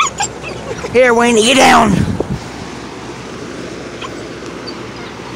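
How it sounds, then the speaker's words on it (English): A small dog barks and yelps in a short excited burst at a lizard perched high on a second story, loud and close, while someone speaks to it before and after amid steady wind noise. "She's barking and yelping at the lizard."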